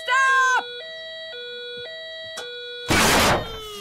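An electronic alarm beeps in stepped tones, repeating several times, then a loud burst of noise cuts in briefly.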